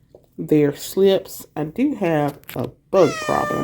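A pet cat meows loudly and repeatedly in a home garden setting, its drawn-out cries alternating with a person speaking nearby.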